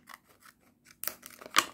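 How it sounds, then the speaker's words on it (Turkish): Sharp-tipped scissors snip into a plastic cup, a few quiet clicks first, then crisp, louder cuts and crackling plastic close by, with no talking. "Şuradan biraz ucu keskin bir makasla kesebilirsiniz."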